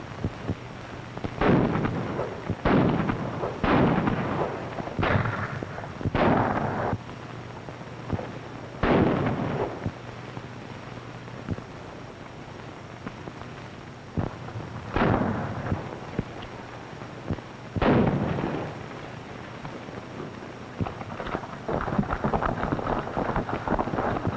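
Rifles fire a volley on command in a 1935 film: several loud, sharp shots crack out in an uneven series over a windy, hissing background, with long pauses between some of them.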